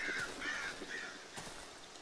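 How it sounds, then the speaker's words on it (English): Crows cawing in the Darkwood video game, several harsh calls in quick succession at moderate distance, with a faint rustle of birds taking off and no talk over them. "Birds and crows flying off."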